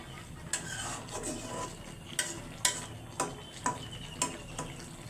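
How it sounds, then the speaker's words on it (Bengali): A spoon scrapes and taps in a pan as sweet pumpkin curry with prawns cooks, giving several sharp metallic knocks over a low steady sizzle, close up. "আর অর্ধেক এই যে আজকে চিংড়ি মাছ দিয়ে রান্না করতেছি।"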